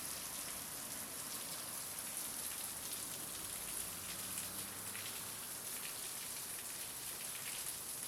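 Rain falling steadily outdoors on grass and surrounding surfaces, a dense, even patter and hiss that holds constant throughout with no voices.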